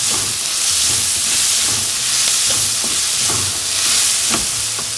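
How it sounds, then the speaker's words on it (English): Chopped onion sautes in two tablespoons of oil in a pan, giving a steady close sizzling hiss with light stirring clicks and scrapes throughout. "Let's saute the onion for about 2 minutes."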